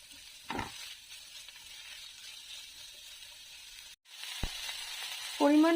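Grated ginger and garlic paste sizzle softly in hot oil as they are sautéed for chickpea ghugni, a faint steady hiss with a couple of sharp scrapes of the spatula, closing on a brief tonal beep.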